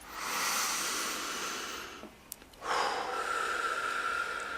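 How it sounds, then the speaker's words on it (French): A deep breath: a long airy inhale, a brief pause, then a strong rushing exhale, close and clear in a quiet room during a relaxation session, with no talking. "une respiration profonde"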